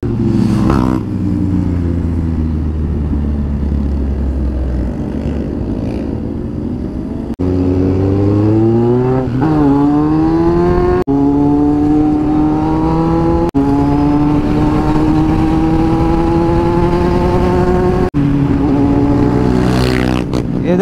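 Motorcycles, including a KTM superbike, rev and accelerate on a road during an Independence Day ride, their engine notes rising in repeated loud sweeps as gears change, with brief voices underneath.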